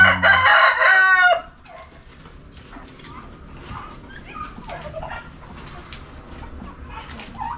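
A rooster crows loudly up close, then chickens cluck and murmur quietly in the background with scattered small rustles.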